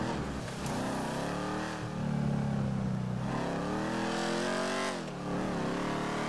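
A car engine in the GTA RP video game revving hard and steadily, loud and continuous, with pitch rising and dropping as the throttle changes, and no talk over it.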